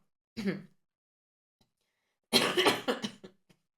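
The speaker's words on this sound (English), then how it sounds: "I just feel like coughing." A single short cough, then after a pause a burst of several harsh coughs in quick succession, close and fairly loud.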